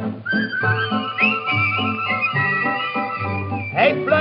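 A whistled melody imitates a canary's song over a steady band accompaniment in a Dutch novelty song, the trills bright and continuous above the music for about four seconds.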